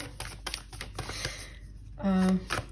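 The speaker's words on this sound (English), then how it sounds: "These cards are so hard for me to shuffle." A deck of cards riffled and shuffled in quick flurries up close, with a short tonal beep near the end.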